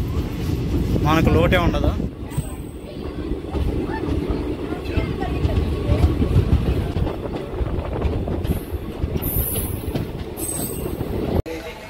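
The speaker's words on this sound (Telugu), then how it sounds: "ట్రైన్ అయితే స్టార్ట్ అయిపోయింది" Train on the Madanapalli to Tirupati line pulling away from a station, a steady close rumble and rattle of the carriages with occasional squeals, while a person talks over it.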